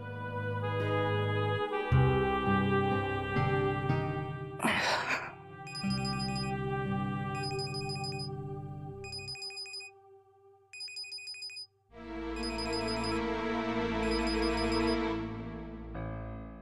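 A melodic mobile phone ringtone plays repeatedly at night, with bright chiming beeps over a musical backing, briefly cutting out before resuming loudly.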